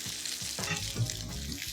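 Strips of bacon crisping in a hot pan give a steady, close sizzle with a few soft clatters as pieces are turned; nobody speaks over it.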